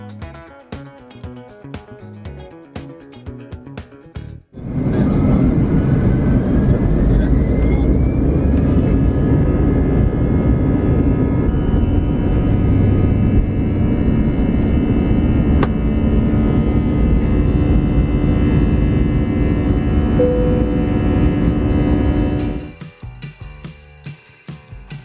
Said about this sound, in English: let's push back and finally get airborne